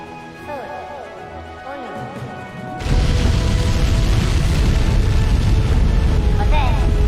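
Rocket engine igniting and launching straight up in Kerbal Space Program 2, a sudden loud, dense roar kicking in a few seconds after quieter tonal game sounds and then holding steady and powerful to the end.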